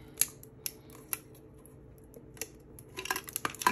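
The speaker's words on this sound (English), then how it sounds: "Let's see if I can get my scissors real quick." Scissors are picked up and handled during a Pokémon tin opening, giving a few light metallic clicks and taps, quiet and close, ending in a denser cluster of clatter with no talk.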